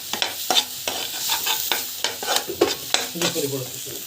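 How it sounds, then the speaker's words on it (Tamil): Asafoetida and chili powder sautéing in a pan for a paneer butter masala give a loud, close sizzle broken by a quick series of stirring and scraping strokes, with no speech. "நல்லா வந்து வதக்கிட்டுக்கலாம். நல்லா வந்து வதக்கிட்டுக்கணும்."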